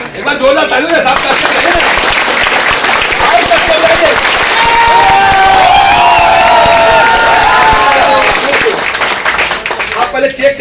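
A big crowd at the Bhagalpur Wonder World opening in October 2021 applauds loudly and continuously, with cheers and shouts rising over the clapping and voices mixed in.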